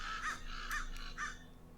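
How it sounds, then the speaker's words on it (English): Crows in a video game caw three times in a spaced, evenly paced sequence, harsh and fairly close, over quiet background hum. "Ah, crows."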